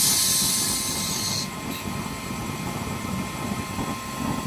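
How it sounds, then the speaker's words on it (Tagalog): Used-oil burning Lighten type stove running as a kalan, giving a steady loud roaring hiss of flame that stays constant throughout, brighter and harsher in the opening moments before settling into a continuous rumble. "Ayan yung unit natin na Lighten type stove diffuse oil"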